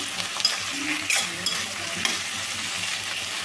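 Eggplant and onion pieces being stirred in a frying pan, a steady sizzle with scraping stirs and a few sharp clicks of the utensil against the pan, close and alone with no talk.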